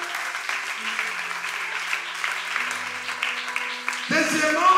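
A congregation at a church seminar applauds in a steady, dense wash of clapping mixed with scattered voices, swelling louder near the end as a tonal sound enters.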